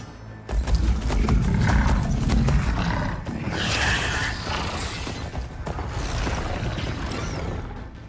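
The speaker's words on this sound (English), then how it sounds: "They're riding machines!" Riders on machine mounts in the video game Horizon Forbidden West: a loud, dense rumble of mechanical creaks, roars and clattering hoofbeat-like steps, sustained and close throughout with no talk.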